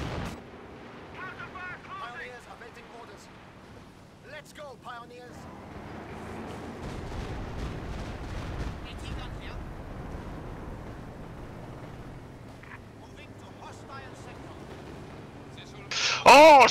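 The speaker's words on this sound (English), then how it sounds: "fucking Katyushas!" Soviet Katyusha rocket artillery barrage in Company of Heroes 2 on the Port of Hamburg map, a long stretch of rumbling, crackling impacts under game noise and talk, ending in a loud close burst.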